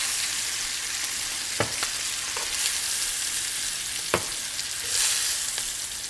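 Beef short ribs sear in a hot pan with a steady close sizzle and crackle. A few sharp clicks and taps from the pan or utensils break through the constant frying hiss.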